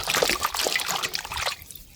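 Water splashes and trickles over spineless nopal cactus pads as they are rinsed, a close, busy patter that stops abruptly, leaving a quiet tail.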